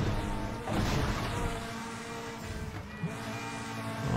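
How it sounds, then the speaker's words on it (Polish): A racing car engine roars in Need for Speed: The Run, a loud, sustained growl with shifting revs and a brief whack of impact, alongside background game music. "Normalnie czuję ryk tego silnika na moim zderzaku"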